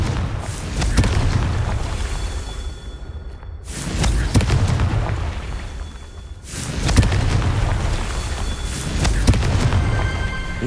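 Confringo fire spell explosions in Hogwarts Legacy, a series of deep booming blasts with rumbling tails, loud and close, broken by a short lull, with no talk.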